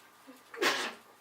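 A single short sneeze breaks into a quiet doula client assessment interview, one sharp, breathy burst that rises abruptly and fades within a fraction of a second.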